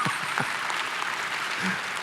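An audience applauds steadily at a faith-themed gathering, a dense, continuous patter of many clapping hands heard from a moderate distance for about two seconds.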